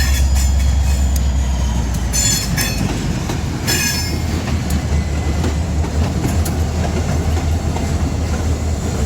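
A GP40 diesel locomotive train rolls steadily past close by, a constant heavy rumble with rhythmic wheel clatter and brief metallic squeals from the rails.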